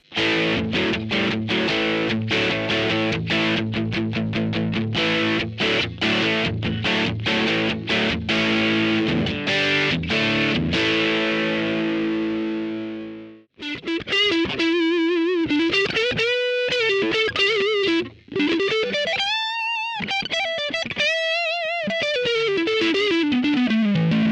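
High-gain electric guitar through a VOX AC30 amPlug 2 headphone amp, first a run of hard, choppy distorted chords, then after a brief gap sustained single notes and wide bends with heavy vibrato, loud and continuous.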